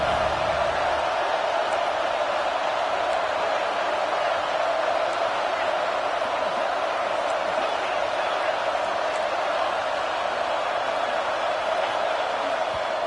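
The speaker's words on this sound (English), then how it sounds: "Decibels rising as the crowd gets behind this defense on 3rd down." Dense, steady roar from a packed football stadium crowd on third down during a Memphis game, a continuous wall of cheering and yelling that holds at a high level throughout with no breaks.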